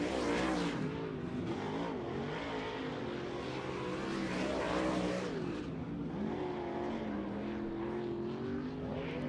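Dirt late model race car engines roar during qualifying laps at Farmer City Raceway, a loud continuous snarl with rising and falling revs as cars pass, steady and close throughout.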